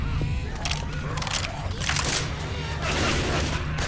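Rapid gunfire in Left 4 Dead 2 rattles on without a break beneath a dense game soundscape of booms and chaos, with players shouting over it.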